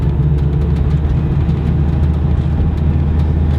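A supercharged, lifted Mazda Miata drives along, its engine and road noise forming a loud, steady, close rumble that holds without a break, with no voices over it.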